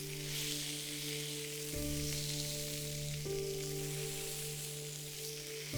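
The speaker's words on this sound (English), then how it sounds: "Press to sear to help the browning." A salmon fillet sears in a hot pan with a steady bright sizzle, close and continuous, while a low sustained tone runs underneath and shifts pitch a couple of times.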